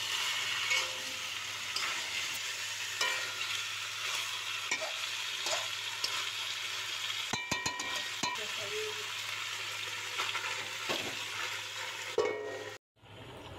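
Meat is sautéed in a pan during kasha with a continuous sizzle, a low steady hum and intermittent spatula scrapes and clatters, and a brief clunk near the end drops the sound out momentarily.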